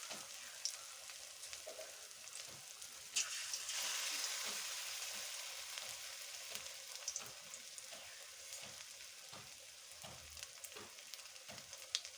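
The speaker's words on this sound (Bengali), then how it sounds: "তেল গরম হয়ে গিয়েছে এবার আমি একে একে বেসনগুলোকে তেলে ছেড়ে দেবো" Gram flour (besan) snacks fry in hot oil in a kadai, a steady broadband sizzle with crackling pops that swells around the third second and continues close and fairly loud throughout, with no talking.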